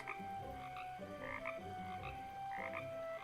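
A frog croaks in several drawn-out, throaty calls, steady and fairly close, with brief pauses between them.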